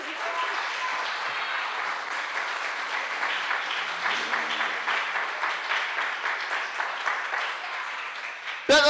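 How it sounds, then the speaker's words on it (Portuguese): Church congregation applauding steadily and loudly during a worship service, a continuous wash of many hands clapping that swells slightly midway and ends abruptly. "aplauda bem forte a Jesus."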